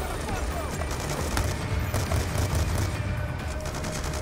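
Rapid gunfire from the Call of Duty Black Ops 2 campaign, dense overlapping shots and bursts sustained across the whole stretch with loud battle noise.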